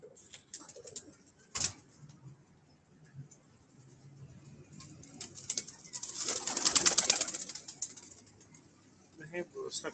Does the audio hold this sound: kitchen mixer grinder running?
no